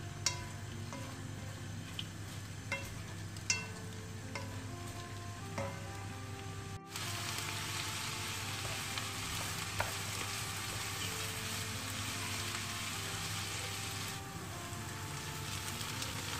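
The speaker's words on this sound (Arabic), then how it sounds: "je mélange et je surveille mes oignons jusqu'à qu'ils vont fondre complètement" Onions frying in a pan for Algerian coca, a steady sizzle that runs throughout. A few light utensil clicks and scrapes come from stirring early on, then the frying grows denser and continuous.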